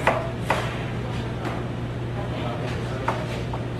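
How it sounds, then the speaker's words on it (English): Fresh ginger being chopped with a knife on a board in a home kitchen, a handful of sharp, fairly close knocks spaced irregularly over a steady background hiss. "I'm going to chop them up"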